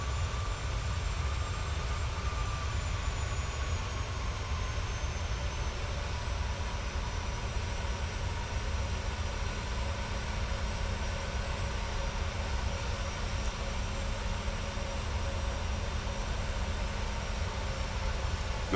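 Jet engine power from an airliner in Microsoft Flight Simulator, a steady broadband roar with a low rumble that holds evenly throughout, no talking heard.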